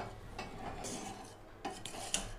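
A whisk mashes cooked dal in a pot for dal dhokli, giving soft scraping and stirring strokes with a few light metallic clinks against the pot, close and quiet with no talking.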